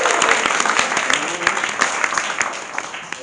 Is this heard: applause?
yes